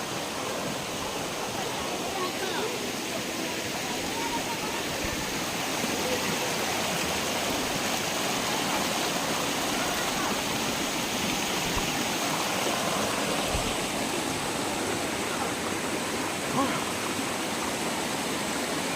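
Continuous rushing water from a clear flowing stream at Bubuyog, Maragundon, Real, Quezon, loud and steady without pause, a broad even splash filling the whole stretch.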